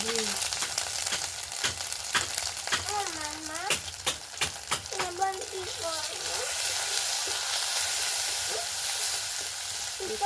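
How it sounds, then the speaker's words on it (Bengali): Ginger-cumin paste with turmeric frying in a pan for a katla fish curry, a steady close sizzle running throughout while someone talks over it. "হলুদ দিয়ে আদাটা ভাজলে আর ছিটকাবে না"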